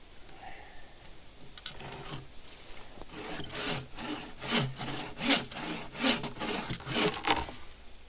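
Hand saw cutting through solid oak hardwood outdoors at a campsite, starting with light strokes and building into loud, rhythmic back-and-forth rasping strokes, close up and without speech.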